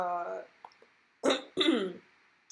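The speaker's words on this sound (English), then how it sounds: "I just heard me clear my throat" A voice speaks briefly, then after a pause a person clears their throat in two rough, close bursts.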